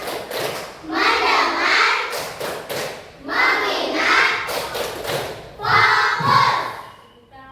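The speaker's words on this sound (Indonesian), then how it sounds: "Coba tepuk fokus dulu ya." A classroom of children does a rhythmic focus clapping routine, with short patterned bursts of claps and thumps alternating with chanted words led by a teacher.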